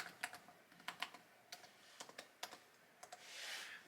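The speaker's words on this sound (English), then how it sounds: "You're gonna have to type in your password for your computer," A password is typed on a computer keyboard, with a quiet run of crisp key clicks in small irregular clusters, close and alone, ending in a soft brief rush.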